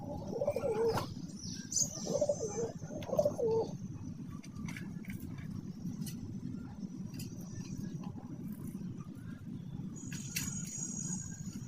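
Pet pigeons coo in a few low, throaty bursts close by early on, with faint chirps and a steady background rumble carrying through the rest.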